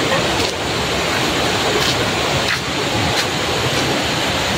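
Flowing water rushes in a Malaysian nature park, a steady, loud, dense roar that continues unbroken from start to end.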